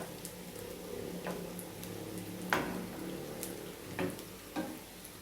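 Saltfish fritters (stamp and go) frying in oil on low heat, giving a soft, steady sizzle with light crackles and a few brief pops, fairly close and alone.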